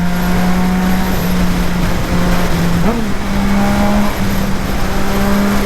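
Yamaha MT-09 SP motorcycle engine while riding: a loud, steady engine drone that holds one pitch, dips briefly around the middle, then climbs back. The engine is close and there is no talk.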